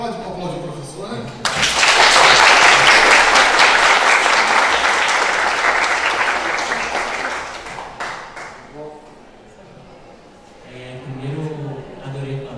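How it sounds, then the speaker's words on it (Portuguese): A lecture audience applauds a professor after a talk on the Ukraine–Russia conflict: a loud, dense roar of clapping that starts abruptly, holds for several seconds and then fades, with speech before and after. "Pode aplaudir o professor, né?"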